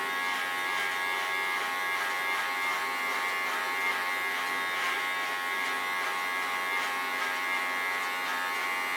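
An electric hair clipper buzzes steadily and continuously at close range while cutting long straight hair into a pixie cut, its even whine holding without pause.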